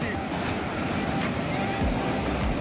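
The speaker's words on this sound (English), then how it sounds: "The waves are very strong." Heavy surf at high tide on Condolim Beach, North Goa, crashes and roars continuously, with loud rushing water and wind buffeting the microphone.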